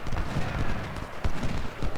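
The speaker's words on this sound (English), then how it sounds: "There are the enemy horses." Hooves of galloping cavalry horses in a Civil War battle strategy game, a soft rapid clatter of hoofbeats running steadily across the whole moment, moderately quiet with faint talk over it.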